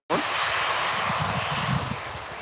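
An EasyJet Airbus A321 jet comes in to land at Birmingham Airport, its engines producing a loud, steady broadband roar that starts abruptly and holds throughout, with voices talking faintly underneath.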